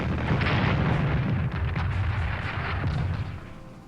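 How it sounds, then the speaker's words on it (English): Artillery barrage in the wartime strategy game Strategic Command 1939, a loud dense rumble of booms and blasts rolling for several seconds, then slowly easing off. "Attack with some artillery."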